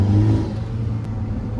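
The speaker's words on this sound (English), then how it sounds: "Even the downshifts are popping now." Hyundai Elantra N fitted with a catless downpipe, revving loud and close with a deep steady exhaust drone and the engine note rising and settling.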